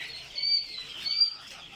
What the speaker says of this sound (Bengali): এই যে আমাদের কোয়েল পাখিগুলা দি কোয়েল পাখির বাচ্চাগুলা মাসাল্লাহ অনেক বড় হয়ে গেছে